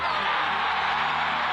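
A stadium crowd at an Indy Eleven versus Greenville Triumph SC soccer match roars as a dense, steady wash of cheering, loud and continuous for a moment.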